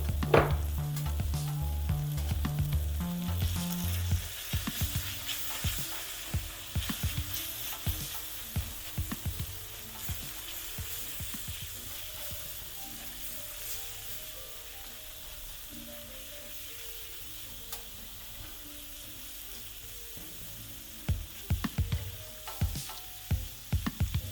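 Caramelized onions with flour browning in a pan give off a steady, soft sizzle and frying crackle, with intermittent louder clatter of stirring, heard alone at close range.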